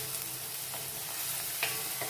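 Garlic and spring onion sauté in a hot pan with a steady, gentle sizzle, broken by a few light clicks of a spoon stirring.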